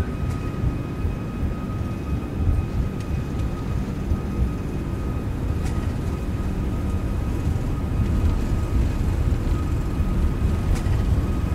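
Airbus airliner engines spool up to takeoff thrust in a flight simulator game, a steady, loud broadband roar with a faint whining tone that swells slightly toward the end, with no talking.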